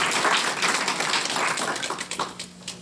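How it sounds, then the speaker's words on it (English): An audience gives a warm round of applause, heard as dense, steady clapping that thins into scattered claps toward the end. "go ahead and have a wonderful, warm round of applause"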